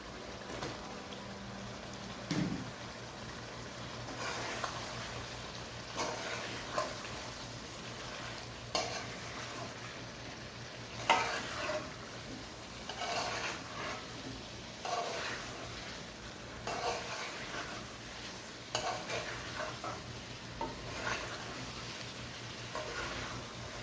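Cauliflower, about 500 grams, being stirred into a frying potato and spice masala for aloo gobhi, with a steady sizzle and repeated scraping stirs through the clip and no talk.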